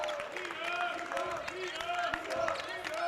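Basketball crowd in a college gym roars and cheers after a slam dunk, a loud sustained wash of voices with whistles and scattered clapping, while an announcer talks over it.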